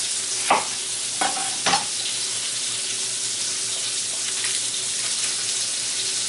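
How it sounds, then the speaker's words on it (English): Beef cooks in a pan with a steady, close hiss of frying, and a few sharp clinks of a utensil stand out near the start. "While our beef is cooking"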